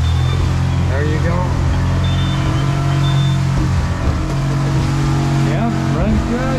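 A 2012 Smokercraft 16 Tracer boat's outboard motor runs steadily on the water, a loud continuous engine drone with a deep hum that holds evenly throughout.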